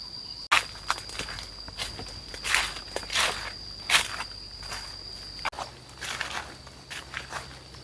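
Footsteps crunch through forest undergrowth in an irregular walking rhythm while searching for wild mushrooms, close to the microphone, over a steady background chirp of insects.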